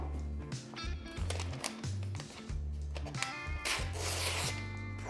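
A cloth wipes down a freshly sharpened pocket knife blade with soft rubbing strokes up close, heard alongside steady background music.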